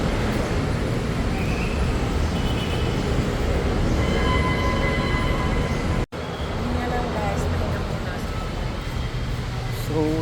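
Manila MRT train at the Ayala terminal, a steady loud rumble of the rail car running through the station with squealing wheel tones, and voices talking underneath.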